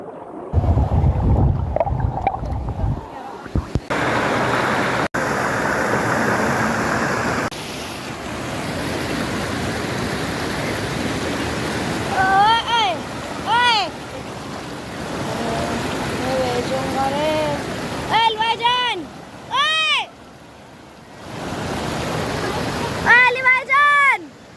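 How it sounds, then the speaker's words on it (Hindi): Strongly flowing stream water rushes near a waterfall at a hidden dargah site in Kanera, Rajasthan. The roar is loud and continuous, nearby, with voices talking over it and occasional gusts of wind noise. "यहाँ पे आपको आवाज़ भी नहीं आ रही क्योंकि पानी इतना तेज दे रहा है।"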